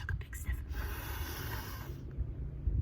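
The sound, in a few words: storyteller imitating a giant's big sniff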